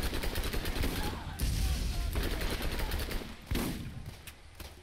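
Video game gunfire in Borderlands rattles in dense rapid bursts, with continuous automatic shots that briefly pause and then resume, loud and close.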